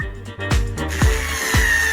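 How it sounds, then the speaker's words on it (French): Power drill boring into boards, a loud close whirring motor with repeated sharp bursts as the bit bites into the wood roughly every half second. "Je vais tout percer."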